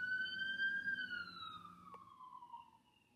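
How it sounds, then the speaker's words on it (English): A wailing siren with a steady tone slowly sliding downward, faint and distant, fading as it passes, with a faint click near the middle. "I hear a siren."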